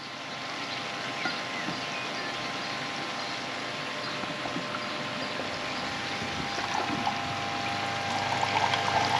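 Water flows steadily into a measuring jug beside a koi pond, a constant close pouring rush that grows slightly louder toward the end, with no voices.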